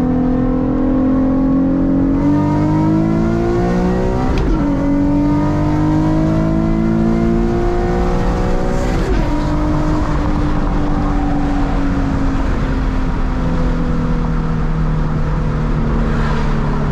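A car engine revs up loudly through the gears, its pitch climbing and then dropping at two quick shifts around the middle before pulling on steadily, loud and close with no talk.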